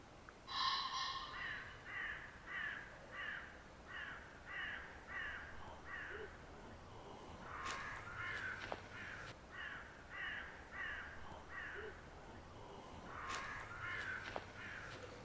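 Crows caw in repeated rhythmic bursts in a wood at night, loud and fairly near, with a second bird joining in overlapping calls against a quiet background.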